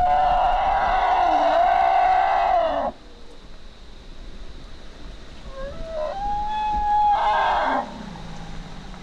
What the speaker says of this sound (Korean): 부부 코끼리인 것 같은데 갑자기 위협하는 소리를 낸다.